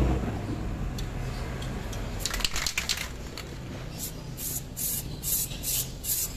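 An aerosol spray can paints a Pajero brake rotor disc and caliper, letting out a series of short hissing bursts that grow more regular toward the end over a background of rubbing and handling noise.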